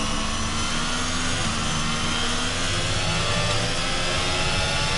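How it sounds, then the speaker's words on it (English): Ferrari race car engine in a racing video game at COTA, a loud, continuous high-pitched whine that holds steady throughout with dense broadband roar beneath and no speech. "Hear that engine crying"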